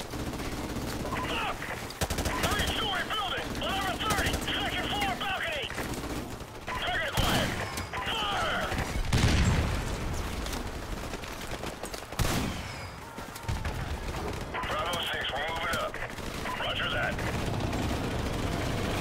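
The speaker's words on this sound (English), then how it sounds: "What's shooting me now?" Bursts of automatic gunfire and single shots pop through a Call of Duty: Modern Warfare match on Series X, steady and mid-distance, while someone talks over much of the action.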